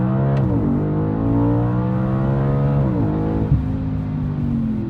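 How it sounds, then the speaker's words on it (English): An Audi B8 RS5 is held on the brake with the throttle floored for a launch. The engine revs loud and close, first climbing, then dipping, then settling into a sustained high drone, with no talk over it. "I'm gonna mat the gas and then like immediately let off the brake"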